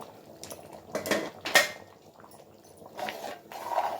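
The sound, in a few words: stirring curry in a pot, then covering it with the lid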